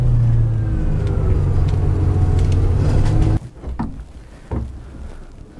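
Loud, steady engine drone and track rumble inside a Bv 206 tracked vehicle driving through snow, then the roar cuts off abruptly, leaving quieter intermittent mechanical noises.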